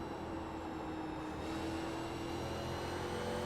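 A 1987 NASCAR stock car in a racing simulation at Phoenix, its engine droning steadily at full throttle, a sustained, even roar with a faint rising whine and no other sounds.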